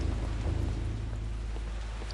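Rain falling in the video game Eternal Darkness: a steady hiss of rainfall with a low rumbling undertone, even and continuous, no voices.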